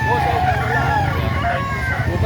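A three-year-old rooster crows nearby at a chicken market in Lipa, Batangas, a drawn-out call, with some background voices and farmyard noise.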